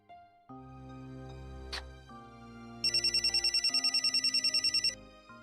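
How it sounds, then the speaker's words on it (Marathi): A mobile phone ringtone plays in a household scene of a Marathi TV serial, a musical tune with a rapid pulsing trill of about a dozen beats layered over it, fairly close and alone without talk. "नानांचा फोन"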